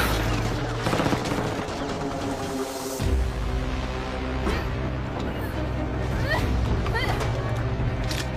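Dubbed movie action scene with rapid bursts of gunfire and fusillades, loud and dense, mixed with voices and scene noise.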